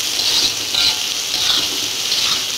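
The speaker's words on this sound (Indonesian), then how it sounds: "Aduk lagi." Shrimp-paste seasoning with salt, stock powder, sugar and cherry tomatoes sizzles steadily in a pan for water spinach stir-fry, a continuous bright crackle with soft stirring scrapes, close and alone.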